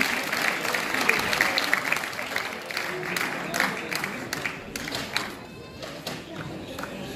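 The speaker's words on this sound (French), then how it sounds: "Applaudir tous nos jeunes sportifs, tous les bénévoles et les parents qui les accompagnent tout au long de l'année." Applause from an audience at a youth sports awards ceremony in Florange, with uneven clapping that thins out at times, some sharper individual claps and faint crowd murmur underneath.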